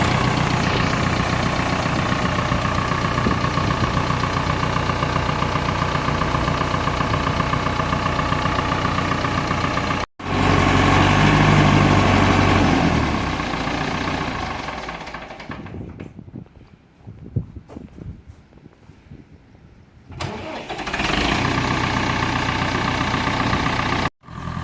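Massey Ferguson 698 tractor engine, fresh from injector pump cleaning, running loudly and steadily nearby, with a brief cut, a surge, then a drop to quieter idle with knocks before running strongly again.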